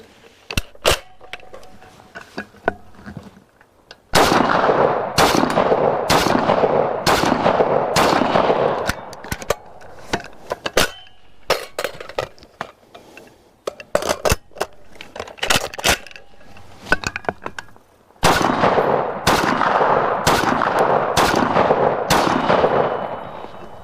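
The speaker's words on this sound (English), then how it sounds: "we're going to do 5 rounds in each magazine with a mag change" An FG42 Type I rifle fired semi-automatic at a range, sharp loud single shots in irregular strings with pauses between magazines, each crack trailed by a brief echo, close and with no talking.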